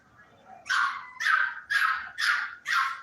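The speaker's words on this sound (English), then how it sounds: "Yeah, the puppies are going crazy right now." Several puppies barking excitedly indoors, five sharp, evenly spaced yappy bursts close to the listener with no talking.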